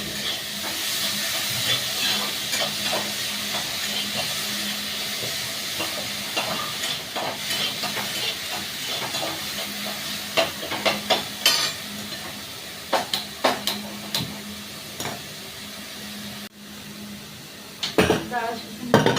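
Tomatoes fry in a pan with salt, a steady sizzle running throughout while a utensil scrapes and clinks against the metal in repeated stirring strokes, growing sharper and more frequent toward the end.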